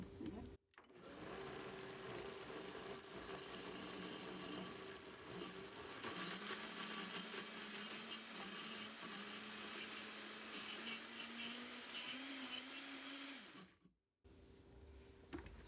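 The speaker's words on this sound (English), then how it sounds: "I'm going to grind it because I don't want to get too watery" A wet grinder runs steadily for about thirteen seconds, grinding vattayappam batter with coconut milk in a loud, even mechanical whir, with brief stops near the start and end.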